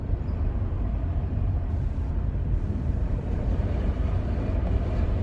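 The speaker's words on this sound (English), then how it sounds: "That's a fast train." A fast train rushing past in Cornelia, Georgia, heard as a steady, loud low rumble with wind buffeting the microphone throughout and no voices.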